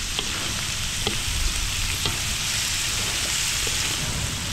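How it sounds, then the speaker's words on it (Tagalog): Vegetables sautéing in a hot pan give a steady, close, dense sizzle with faint crackles and the occasional stir, continuous throughout with no talk. "gigisahin na natin yung ating gulay hanggang sa maluto"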